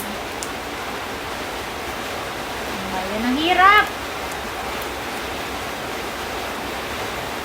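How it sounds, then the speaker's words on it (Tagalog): Steady, dense hiss of heavy rain pours throughout, with a short spoken phrase rising briefly above it partway through. "Dinig niyo yung ulan. O, diba? Malakas ang ulan."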